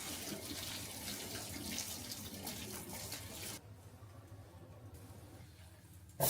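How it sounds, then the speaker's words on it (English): Hot boiling water pours over chorizo at a wild camp, a steady splashing stream that runs for a few seconds before dropping to a quieter, thinner trickle. "Give the chorizo a good rinse off with hot boiling water."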